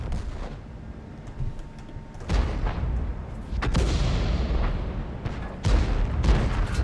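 Heavy artillery fire in World of Tanks: several deep, booming shell blasts land a few seconds apart, each a sudden loud impact followed by rumbling decay over continuous low battlefield noise, no voices.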